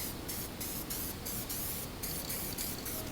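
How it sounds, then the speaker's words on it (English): An aerosol can of guide coat hisses in short, evenly spaced bursts over auto body finishing glaze, a steady close spray sound with brief pauses between passes. "I'm gonna spray a little bit on here."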